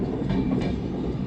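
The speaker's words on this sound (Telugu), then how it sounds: "భువనేశ్వర్ తిరుపతి ట్రైన్ వెళ్తుంది." A Bhubaneswar–Tirupati train passing near a concrete construction site, a loud, continuous rolling rumble with rattling carriages, no pauses across the short stretch.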